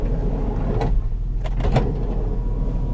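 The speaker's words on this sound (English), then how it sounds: "The power door works though." A car's power sliding door runs with a steady motor hum, broken by a few short clunks and latch clicks near the end, loud and close.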